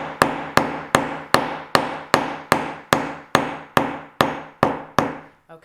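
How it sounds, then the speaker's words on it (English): Hammer striking a chunky wire rose piece from the top, twelve sharp, evenly spaced metallic blows, close and loud, each ringing briefly before the next. "I'll give that another hammer, and this time I'm going to hammer from the top"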